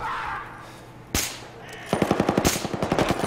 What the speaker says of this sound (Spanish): No sé ni de dónde me está disparando.